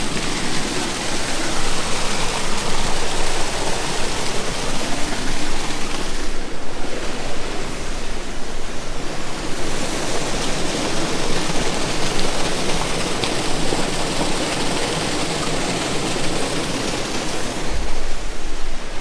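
Water rushes out of an opened slurry pit beside a concrete farmyard, a loud, continuous roar of surging flow that holds steady without a break, with no voices.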